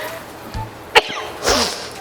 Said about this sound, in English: I just sneeze